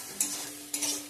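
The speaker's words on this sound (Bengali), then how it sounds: "ভালো করে সব মশলা কষিয়ে নেব" Ground cumin, coriander and chili powder sautéing in oil in a pan, with two scraping stir strokes over a steady soft sizzle, close and without talk.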